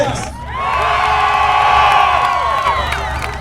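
A large outdoor crowd at a Mustang car show cheers and whoops for a contestant car, swelling to a loud sustained roar that peaks mid-way and then tapers off.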